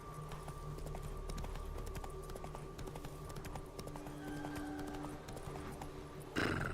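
Hooves of Roach the horse clip-clopping steadily in The Witcher 3 video game, a continuous trotting rhythm over a low ambient background, ending with a brief louder rustle.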